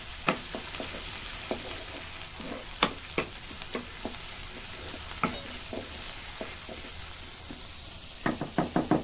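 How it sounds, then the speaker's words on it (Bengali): Onion and crushed garlic frying together in a pan for a pointed-gourd chop filling, a steady soft sizzle broken by scattered scrapes and knocks of a spoon stirring, with a quick burst of clatter at the end. "একসাথে মিক্স করে ভেজে নেবো ভালো করে"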